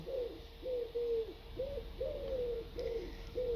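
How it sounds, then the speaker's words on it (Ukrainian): Doves coo in a steady repeating rhythm, soft and somewhat distant, against a low background hum outdoors in the morning. "А ви чуєте, як співають голубки?"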